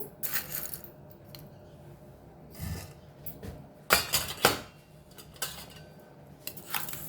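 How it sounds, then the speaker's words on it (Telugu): Dry chana dal tipped into a pan while making spice powder: scattered clattering and rattling bursts of hard lentils hitting metal, some sharp and clustered, with quiet gaps between. "సో ముందుగా కారపొడికి మనం టూ టీ స్పూన్స్ పచ్చిశనగపప్పు వేస్తున్నాము"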